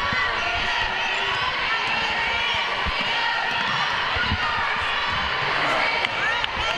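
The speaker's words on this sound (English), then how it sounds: "this crowd is still roaring to life here" Girls' high school basketball game against Fort Smith Southside, with a gym crowd cheering and shouting loudly and continuously, broken by sneaker squeaks and ball bounces, and people talking throughout.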